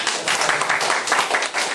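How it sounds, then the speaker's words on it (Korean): A room of about two dozen people at a church group's meeting for a short-term mission trip to Mongolia bursts into dense, steady applause, clapping together close by to welcome a newcomer. "서범석 선배님 배우는데 박수로 환영하겠습니다"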